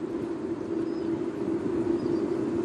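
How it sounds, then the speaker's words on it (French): Water leak on a service pipe picked up by a listening microphone, a steady low hiss and rush that stays constant throughout with no other sounds. "c'est le bruit d'une fuite sur branchement"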